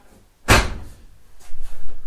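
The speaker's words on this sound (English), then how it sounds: "that right there was the first time I've ever opened up the door with the door panel on" A door on an OBS Ford truck under restoration, with the door panel installed, opens with one loud sharp clunk at close range, followed by quieter rattling and shifting noises.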